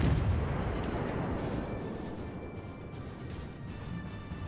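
A battleship salvo booms in a naval combat video game, firing from the Ishizuchi: a heavy artillery blast at the start with rumbling explosions decaying and rolling on behind it, loud and nearby, no talk over it.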